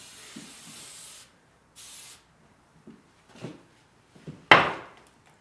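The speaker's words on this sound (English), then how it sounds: "off with some weightless hairspray, which is aerosol because it dries in 3 seconds" Weightless aerosol hairspray hisses onto hair in two steady close bursts, followed by faint handling taps and one sharp, louder burst that fades quickly.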